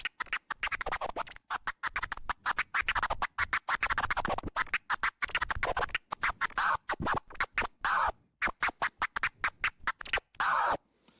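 Rapid choppy scratching on a digital vinyl DJ setup, with many short bursts cut in and out with the mixer fader in a quick, stuttering rhythm. It is loud and close, with no talking.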